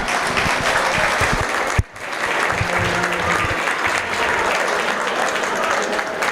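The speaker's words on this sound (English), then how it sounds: "give them all a round of applause for intermediate showmanship" Audience applause at a dairy cattle show after the intermediate showmanship class, a dense, steady clapping crowd that briefly drops out then resumes, with a voice faintly audible beneath it.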